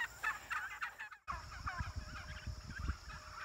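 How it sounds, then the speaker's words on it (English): Wild turkeys gobble along a hiking trail on Vermont's Long Trail, a flock answering in repeated rough rattling bursts close by, pausing briefly before resuming through the outdoor background. "But the turkeys don't like it."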